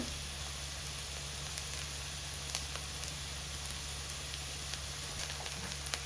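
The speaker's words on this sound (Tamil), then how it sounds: "வெங்காயம் வந்து நல்லா வதங்கிடுச்சு." Onions sauté in a pan with a faint, steady sizzle and light crackle that holds evenly throughout, with no voices.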